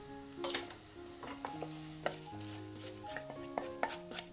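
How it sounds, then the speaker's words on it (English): Choux pastry dough being stirred in a pot on medium heat, soft repeated scraping and tapping of a spatula against the pot under a faint sizzle, with steady background music tones. "Continue to stir the mixture on medium heat until a thin film forms on"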